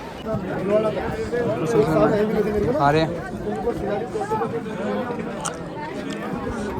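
Large crowd of pilgrims at Badrinath temple, a dense close babble of many voices with someone speaking near the microphone over the steady hubbub.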